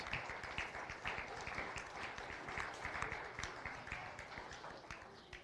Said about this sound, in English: give all the exhibitors from all day a great big round of applause